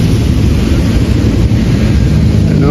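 Rain with thunder at a fishing spot on the Pasig River in Guadalupe, a loud, steady rumbling roar of downpour and low wind buffeting the microphone throughout, with no talk.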